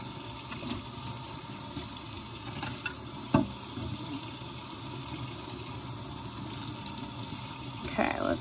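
Tap water runs steadily into a sink while an item is washed in a home kitchen, a continuous close rushing hiss with a few small clinks.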